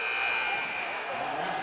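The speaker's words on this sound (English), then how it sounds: "at the first half buzzer." The first-half buzzer at a high school boys basketball game at Wilkes-Barre Area High School sounds as a loud, sustained electronic tone over gym crowd noise.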